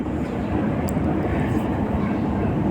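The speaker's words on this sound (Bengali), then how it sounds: "একতা এক্সপ্রেস ট্রেন আমাদের যাত্রা সঙ্গী।" A train rumbles steadily in a loud, continuous low roar, the sound of rolling wheels and carriages heard close up from on board the Ekota Express as it crosses the new Jamuna River rail bridge in Bangladesh.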